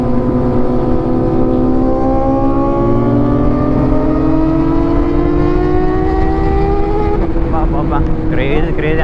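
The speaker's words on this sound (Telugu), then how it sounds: "క్రేజీ అనిపిస్తుంది సౌండ్ అయితే 4Rది." A Kawasaki ZX-4RR motorcycle's engine revs loud and close, pitch climbing steadily through a long pull before a sharp surge of higher revs at the end.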